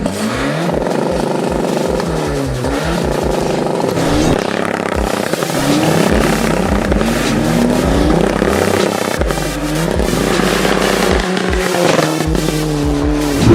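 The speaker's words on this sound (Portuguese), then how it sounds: "Este é o meu carro, é um Seat Ibiza 6L, mais um TDI carregado, bem carregado" A heavily tuned SEAT Ibiza 6L with a 1.9 TDI PD130 diesel and nitrous, making around 600 bhp, revs loudly and continuously, its engine note rising and falling in repeated sweeps with no talking.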